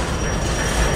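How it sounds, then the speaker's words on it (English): A railroad train rolls past close by at a railfanning spot around Commerce, a loud, steady broadband rumble of wheels and cars filling the whole moment with no voices. "this train's coming to a halt"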